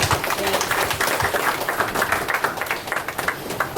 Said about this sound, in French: Allons applaudir Seigneur pour ça